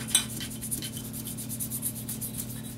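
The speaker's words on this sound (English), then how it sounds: "brushing the little cracks and stuff, get all the gunpowder residue and gunk out of there" A brush scrubs gunpowder residue out of a Glock 19 pistol in quick, soft, rhythmic bristle strokes, close up, fairly quiet and steady with no talking.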